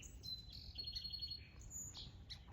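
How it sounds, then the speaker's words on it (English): Baby sparrows chirping, a thin stream of high, faint twittering notes over soft low background rumble, somewhat distant and continuous, with no voices. "And a baby sparrow."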